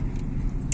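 A car engine idles while the car rolls in neutral at Wadi e Jinn near Madina, giving a brief low steady hum with faint road rumble and a small metallic jingle near the end.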